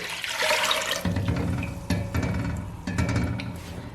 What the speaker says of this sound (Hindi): सबसे पहले हम इसमें डालेंगे दूध